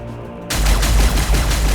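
After a brief quiet moment, heavy gunfire erupts in the video game Warhammer 40,000: Battlesector, a loud, dense volley with deep rumbling low end that keeps going without a break.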